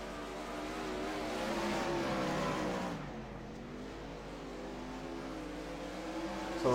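410 sprint cars race at Limaland Motorsports Park in a Dirty Old Bastards series event, a steady loud roar of several engines with harmonic whine shifting pitch as cars swing through the corners, continuous from start to finish.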